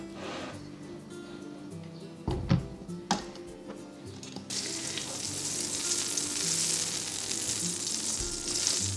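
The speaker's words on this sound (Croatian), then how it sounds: "U zagrijano ulje i puter redajte krompir." Boiled potatoes being laid into hot oil and butter, several knocks and placing sounds at first, then a loud, dense, continuous sizzle that takes over halfway through.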